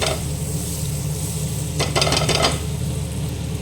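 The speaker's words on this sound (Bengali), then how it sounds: "এবার কড়াইটা গরম হয়ে গেছে এর মধ্যে আমি এবার বাটার দিয়ে দেব" Butter melting in a hot kadai wok gives a steady, close sizzle, with a brief burst of brighter crackling and spatter in the middle, no voices.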